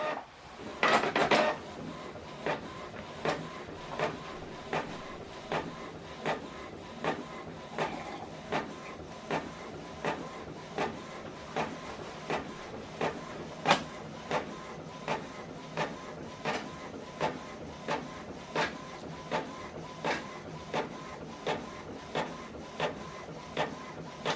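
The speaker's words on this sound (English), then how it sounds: "you can see we are printing this on both sides, so it's going to go back inside." A Canon printer runs a double-sided print job, its feed mechanism clicking and whirring in a steady, regular rhythm of mechanical ticks at close range, with no voices.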